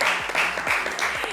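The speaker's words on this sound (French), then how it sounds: "on va applaudir pour la maman de notre Miss" An audience applauds at a live French-language talk show, clapping for a guest's mother seated in the public; a short, steady burst of dense clapping fills the moment with no speech over it.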